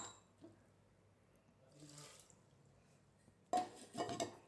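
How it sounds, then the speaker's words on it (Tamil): Water is poured over soaked chana dal in a pressure cooker in a home kitchen. After near quiet broken by a few faint clinks, a short, close splash of pouring water sounds near the end. "ஊற வச்ச பருப்பை ஒரு குக்கரில் போட்டு கொஞ்சம் தண்ணி ஊற்றி மூடி வச்சிடலாம்."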